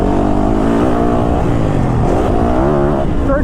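A 2022 Yamaha YZ450FX 450cc dirt bike engine revs loud and close on a dusty motocross track, pitch climbing and dropping through the gears in a continuous sustained roar.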